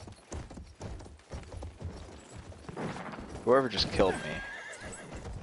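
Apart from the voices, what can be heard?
horse galloping and neighing in Battlefield 1 video game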